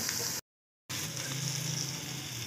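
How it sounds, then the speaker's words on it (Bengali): Spice paste masala, soaked in warm water, sizzles steadily as it fries in a pan for a vegetarian chana dal, a constant close crackle broken by a brief silent gap. "এবার ভালো করে মশলাটাকে আমি কষিয়ে নেব।"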